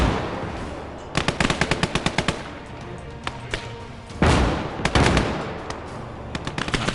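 Rapid machine-gun bursts and heavy artillery thuds in the video game Call to Arms: Gates of Hell, an Eastern Front battle, loud and close, with crackling volleys between deep booming impacts.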